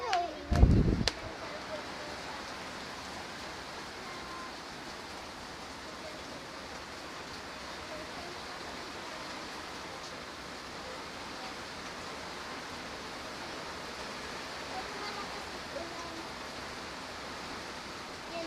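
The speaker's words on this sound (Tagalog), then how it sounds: "ang very lakas ng ulan dito sa labas" Heavy rain falls outside as a steady, even broadband hiss that lasts the whole stretch after a brief louder bump at the start, with no voices over it.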